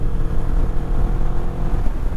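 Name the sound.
Moto Morini Calibro 650 motorcycle engine accelerating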